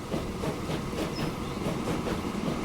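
A train running in the Transport Fever 2 video game, a steady rumbling roar with faint rhythmic clickety-clack. It continues alone, with no talking.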